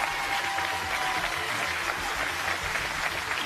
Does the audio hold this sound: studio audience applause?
yes